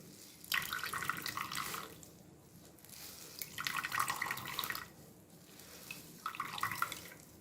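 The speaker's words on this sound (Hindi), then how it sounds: "इस तरह से एक छोटा बाउल लिया और इस तरीके से दबा के सारा पानी हमने निकाल देना है।" Grated pumpkin being pressed with a small bowl to squeeze out its water while making kababs. Three close, wet bursts of trickling liquid are separated by short quiet gaps.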